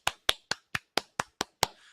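Eight crisp hand claps in an even, quick rhythm, close and sharp with a short fading tail after the last one.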